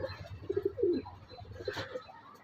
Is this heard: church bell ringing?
no